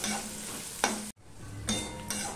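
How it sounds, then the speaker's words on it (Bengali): Chopped onion frying over medium heat in a pan for a fish curry, with a steady loud sizzle, a few scraping stirs and a brief dropout midway. "পেঁয়াজটা অর্ধেকটা মতন ভাজা হয়ে গেছে।"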